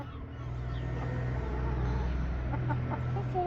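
Backyard chickens cluck softly at close range near their coop, a few short, throaty calls over a steady low background hum.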